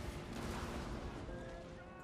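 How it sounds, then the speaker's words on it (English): Massive cannons firing at a Battle of Waterloo 200th anniversary reenactment, a deep rumbling boom rolling out and fading over a couple of seconds, with no speech during the sound. "Oh god, the cannons, massive cannons."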